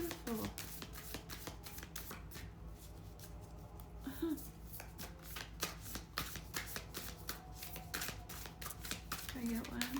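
A deck of oracle cards being shuffled in a series of quick, crisp riffles and flicks that continue steadily up close.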